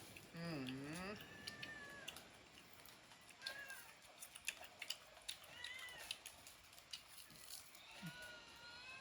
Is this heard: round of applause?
no